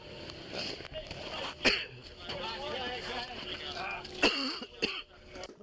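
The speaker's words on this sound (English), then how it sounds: "You already hear him coughing." A person coughs and clears their throat several times in sharp bursts after CS gas exposure, with people talking and background noise throughout.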